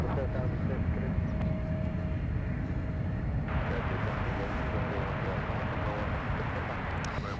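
An Embraer E175 jet airliner departs for Palm Springs at San Francisco airport, its broad steady roar filling the scene and swelling midway as the engine noise grows, with no speech.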